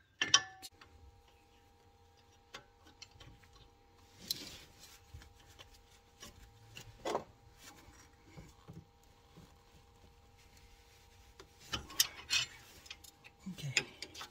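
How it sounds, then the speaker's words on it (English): Ratchet loosening an 18 mm bolt on the rear brake of a Mercedes-Benz GLC X253, heard as scattered close mechanical clicks and scrapes with a few louder bursts, under a faint steady hum. "this is the 18 mil bolt that we have to remove"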